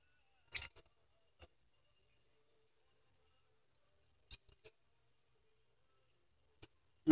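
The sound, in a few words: scissors cutting off extra card paper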